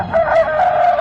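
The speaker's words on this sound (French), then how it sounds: "il entendit le coq chanter" A rooster crows at dawn: a single loud, close cock-a-doodle-doo lasting about a second, heard alone without any talk.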